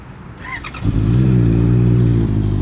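A 2019 big bike motorcycle with an aftermarket exhaust fires up after a brief squeal, then settles into a loud, steady, close-up engine rumble with no talking over it.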